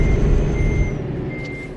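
A truck's reversing alarm in Euro Truck Simulator 2 sounds a steady high electronic beep while parking, over a loud, rumbling diesel idle.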